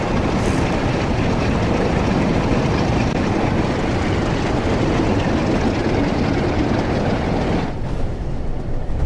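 A Class 47 diesel locomotive hauls a nuclear waste train on the Preston to Carlisle line in Train Sim World, its engine a steady, loud, broadband rumble that drones on unbroken, easing slightly near the end.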